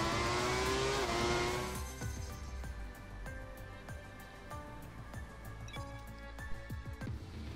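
A 1995 Ferrari Formula One car in the racing game F1 2017 revs hard, its high engine note climbing, then stepping through rapid gear changes with sharp repeated shifts and a steady loud drone throughout.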